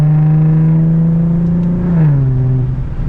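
A loud Infiniti G37 engine holds a steady, droning growl while driving, then drops in pitch as the revs ease off, close and continuous with no voices.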